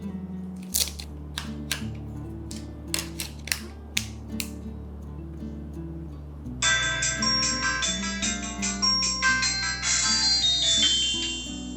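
An Itel Magic X 4G keypad phone powering on plays a bright electronic startup chime: tonal melodic notes with sharp clicks at first, then a fuller, sustained jingle that swells over the last few seconds, close and clear.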